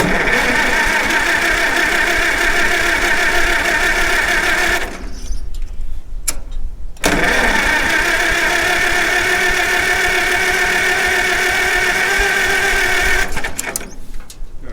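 The engine of a 1948 McCormick-Deering W-4 tractor cranks over without starting, a loud rapid chugging churn in two long bursts separated by a short pause, close by, with no clear talk over it.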